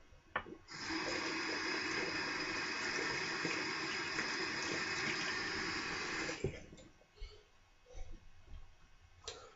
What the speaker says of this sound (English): Need some water on that blade.